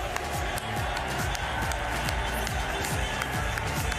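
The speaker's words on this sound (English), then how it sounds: "Un tonnerre d'applaudissements pour nos volontaires" Spectators at the Paris 2024 Paralympic wheelchair fencing venue clapping for the volunteers, steady, dense applause with scattered cheers from a large crowd, heard at a moderate distance.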